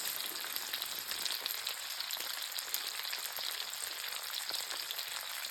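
Fresh tomatoes with a pinch of salt stew gently in butter and olive oil in a seasoned pan, giving a soft, steady, low-level sizzle and bubbling crackle with no talking.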